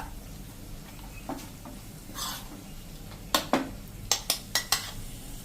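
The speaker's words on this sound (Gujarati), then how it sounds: "આ રીતે આપણે સેજ પ્રેસ કરીને અને લસણની ચટણીને મિક્સ કરી લેવાની છે તેલમાં જ." Garlic chutney pressed and mixed into hot oil in a pan, a faint low sizzle followed by a quick run of sharp utensil taps and scrapes against the pan.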